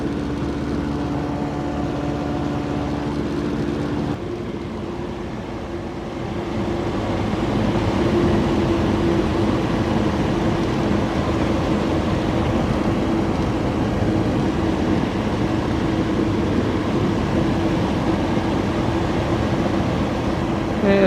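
Small airplane on approach to runway 23 at Summerside, PEI, its piston engine droning steadily inside the cabin, briefly dropping in pitch and tone partway through before settling into a louder, even hum with no speech.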